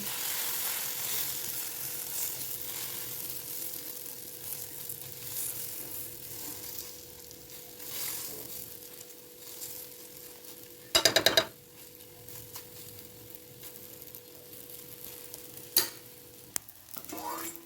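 Oats omelette batter with vegetables sizzles in an oiled pan, a steady broadband hiss with a low hum underneath and a brief sharp clatter of a utensil near the end, with no talk.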